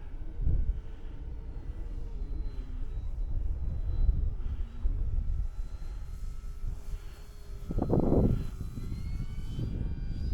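A model airplane, an Oh My Plane BIGhorn, drones overhead at just above half throttle, its engine pitch steady and moderately loud, with brief rumbling gusts of wind noise.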